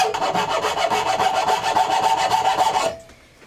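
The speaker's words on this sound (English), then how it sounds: "I'm going to go with a half round rasp here to start with, and I'm just going to profile in here a little bit." A half round rasp shapes and profiles a mass-produced wooden saw handle in quick, rhythmic rasping strokes, close and steady, stopping abruptly near the end.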